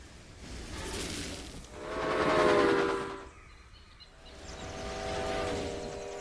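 A train rolls along the track in the Railway Empire game, with a steady rumble that swells to a loud peak mid-clip, dips briefly, then builds again, carrying faint whistle-like tonal lines over the running noise.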